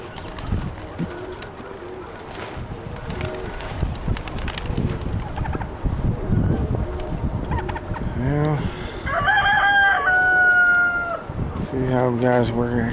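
Roosters crow repeatedly over a background of clucking chickens at a pigeon loft, with wind noise throughout; the drawn-out crows grow louder toward the end.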